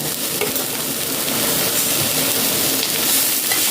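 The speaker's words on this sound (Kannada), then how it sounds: "ಕ್ಯಾಪ್ಸಿಕಮ್ ಹಾಕಿದ ಮೇಲೆ ಒಳ್ಳೆ ಇದು ಮಿಕ್ಸ್ ಮಾಡಿ ಅದರೊಟ್ಟಿಗೆ ಒಳ್ಳೆ ಫ್ರೈ ಆಗಲಿ" Pepper chilli chicken with capsicum stir-fries in a hot pan: a loud, dense, continuous sizzle with the rough scrape and shuffle of stirring running through it, close up and with no talk.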